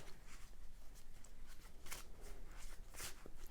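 A deck of cards being shuffled close by, rapid riffling bursts repeating in quick succession with soft papery flicks between them.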